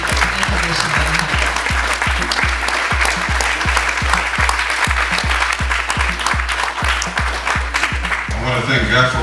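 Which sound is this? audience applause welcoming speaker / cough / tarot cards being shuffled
audience applause welcoming speaker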